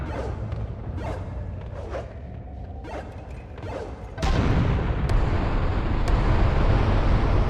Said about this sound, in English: Man, nothing clears the head like a good explosion.